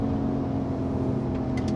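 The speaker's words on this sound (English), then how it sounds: "It might just be the exhaust note of this car." Steady low engine drone from a performance road car on summer tires, a continuous exhaust hum holding even and fairly loud throughout with no talk.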